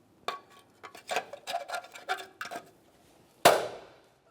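A wheel center cover on a 1998-2011 Ford Ranger is tapped into place: a run of light, close knocks and taps, then one sharp, louder hit as it seats, in a quiet room.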